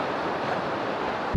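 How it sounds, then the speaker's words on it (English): Strong wind blowing through a river canyon, a steady, loud broadband roar with no break and no voices. "this wind is brutal"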